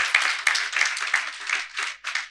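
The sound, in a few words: congregation clapping in church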